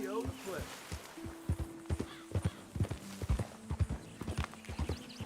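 Horse hooves clip-clop at a walk in Red Dead Redemption 2, with a whinny near the start, while someone talks throughout.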